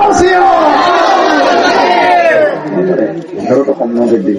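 A large crowd at a Bengali religious sermon gathering shouts religious slogans back in unison, a loud, sustained roar of many voices that fades into scattered calls and murmurs.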